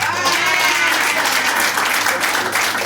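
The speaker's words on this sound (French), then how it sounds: "j'aimerais que vous acclamez pour mon parrain, ici présent" An audience at a training seminar applauds steadily and loudly throughout, a dense, even wash of clapping from a large crowd.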